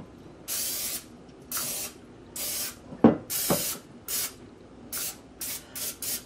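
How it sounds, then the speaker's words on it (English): Repeated short bursts of cooking spray hiss onto a loaf pan, about ten quick sprays in an uneven rhythm, close up, with a couple of faint clicks between them. "Heavily spray a regular loaf pan."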